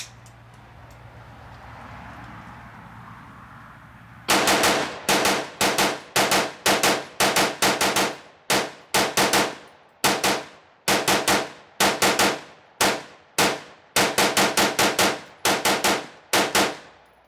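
An AR-15 rifle empties a 40-round GI magazine in loud, sharp shots, fired singly and in quick doubles and triples with brief pauses, after a few seconds of low outdoor ambience.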